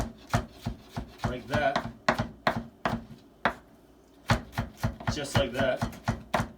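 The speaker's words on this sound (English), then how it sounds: "we're going to do a nice square, finely diced cut to them" Knife rapidly dicing food into fine square pieces on a cutting board, with bursts of sharp rhythmic chops separated by short pauses, a speaker briefly talking between strokes.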